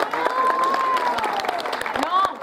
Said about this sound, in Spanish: No, este aplauso no es para usted.